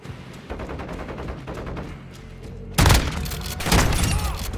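Combat shotgun fire in a video game: rapid blasts and thumping booms in a dense, chaotic battle, with a sharp loud burst near the middle and another toward the end.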